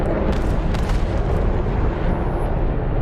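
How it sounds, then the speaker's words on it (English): Naval guns fire in a World War II Pearl Harbor battle video game, set against a Russian carrier strike group. They make a dense, loud, continuous rumble of booms and blasts, with sharper cracks early on. "Oh, they're shooting you with guns."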